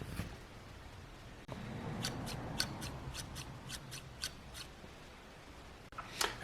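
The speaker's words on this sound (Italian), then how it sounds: "Questa è la Felco 2, insomma è la forbice che almeno in azienda da noi utilizziamo maggiormente tra quelle che sono le forbici manuali" Felco 2 manual pruning shears are handled up close: a quick run of light, crisp snipping clicks in the middle, with quiet rubbing and fumbling before and after.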